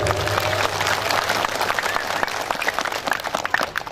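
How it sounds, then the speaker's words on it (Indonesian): An audience claps steadily at a religious lecture gathering with a visiting preacher, dense sustained applause at close range with a few louder individual claps standing out. "Tepuk tangan semuanya."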